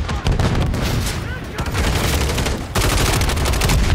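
Rapid automatic gunfire from Call of Duty Modern Warfare III in a team deathmatch on the Terminal map, loud and near, with dense fusillades filling almost every moment.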